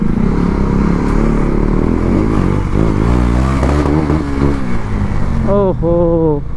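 A motorcycle engine revs in narrow lanes, loud and near, with rising and falling pitch sweeps that echo off the surrounding walls and then climb sharply in a final burst.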